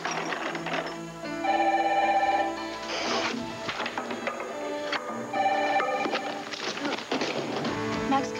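A landline telephone rings repeatedly in a dramatic indoor scene, its bright electronic trill recurring in steady bursts under music and background sounds, with no voices over it.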